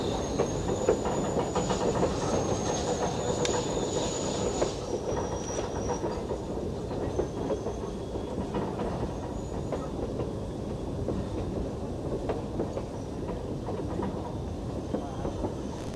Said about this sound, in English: the logging train begins backing down